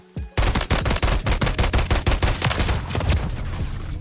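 Rapid automatic fire from an SVA 545 rifle in Call of Duty: Modern Warfare III, a loud, close burst of evenly spaced shots running for several seconds before trailing off.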